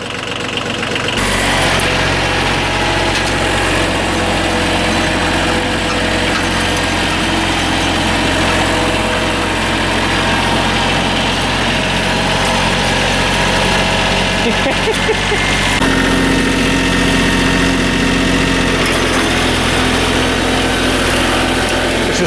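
A restored 1989 Yanmar 2220D tractor's diesel engine idles loudly and steadily up close, a constant rumbling drone with a slight shift in tone partway through and no talk.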